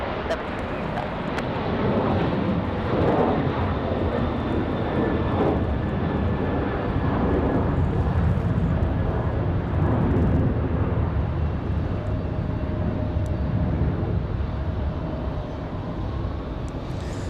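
A Frontier Airlines jet takes off at night from Raleigh Durham airport, its engines a steady, loud broadband roar that holds through the whole stretch, with wind buffeting and a faint radio voice underneath.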